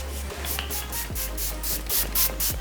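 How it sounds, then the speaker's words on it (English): A series of short, airy spritzes of setting spray onto a face, close by, repeated in quick bursts with no talking. "I'm just going to be spraying my face with a little bit of this Lóréal Magic Setting Spray"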